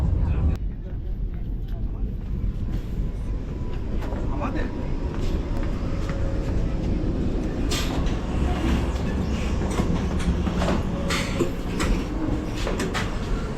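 A Vande Bharat express runs on its route from Cooch Behar toward Kamakhya, heard from inside as a continuous loud rumble with light clicking, while voices carry on over it.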